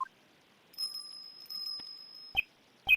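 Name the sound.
bell on a dog's collar, from a video game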